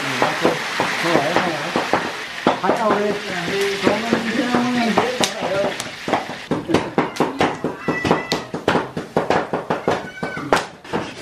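Pieces of tofu fry in a pan during cooking for an upland wedding feast, with loud, steady sizzling and stirring scrapes. Voices and higher animal-like cries sound over it, and sharp clattering strokes come toward the end.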